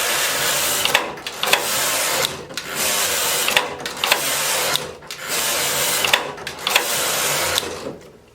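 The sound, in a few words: knitting machine carriage knitting rows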